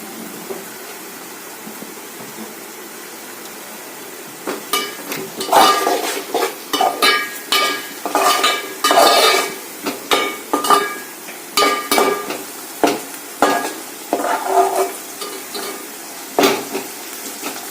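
Egg bhurji being stirred and fried in a pan, with repeated scraping, clinking and stirring strokes of a utensil against the metal over a faint sizzle, starting after a quiet few seconds and continuing in irregular bursts; no one speaks.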